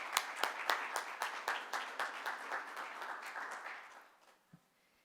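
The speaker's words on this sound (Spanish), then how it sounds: "les pido un aplauso." Audience applause at the launch of an organizational change report in Mexico: steady, moderately loud clapping from a crowd that holds for about four seconds, then thins and fades out, with one last stray clap near the end.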